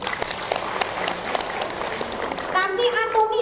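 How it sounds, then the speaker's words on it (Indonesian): An audience at a product presentation breaks into lively applause, a dense stretch of clapping with a voice breaking in over it near the end. "Tepuk tangan dulu."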